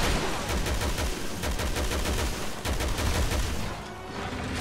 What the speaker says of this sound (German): So, mal da oben rauf schießen.